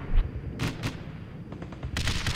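Grenade launchers fire a volley in the strategy video game Guns Up, sounding as a low thump followed by several overlapping sharp bursts and booms spread over a couple of seconds, mixed with lighter gunfire.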